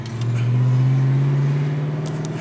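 Car engine droning steadily at close range while driving, with a strong low hum and a slight rise in revs, loud and continuous with no voices.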